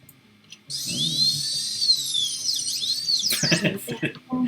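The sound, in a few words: dentist drill sound effect in Jackbox Party Pack game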